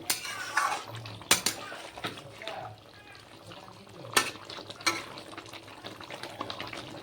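Spoon stirring rohu fish curry with fried bori in a metal pan, giving a few sharp scraping clinks against the pan amid soft bubbling and kitchen clatter, close and moderately loud.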